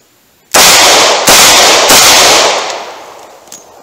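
Snub-nosed revolver fired during a live-fire pocket draw and speedloader reload drill, heard as loud, close blasts in quick succession whose heavy echo rings out and fades, with no talking.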